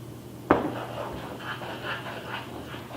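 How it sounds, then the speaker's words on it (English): A spoon clinks once against a bowl and then scrapes and stirs softly as powdered sugar is mixed into a chocolate mixture. The stirring is faint and close, in a quiet kitchen. "whisk that until smooth, only I'm using a spoon"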